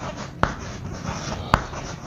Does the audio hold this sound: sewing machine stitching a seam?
no